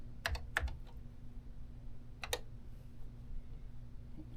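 Three quick clusters of key presses ring out on a vintage Tandy TRS-80 computer keyboard, crisp clicky taps separated by short pauses over a faint background hum.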